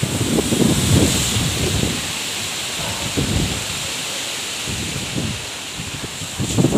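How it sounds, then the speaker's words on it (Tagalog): Strong Super Typhoon Rolly winds roar outdoors in the afternoon, with broadband gusts surging and easing in repeated bursts, rushing and loud with no talking. "grabe yung hangin dito sa aming harap"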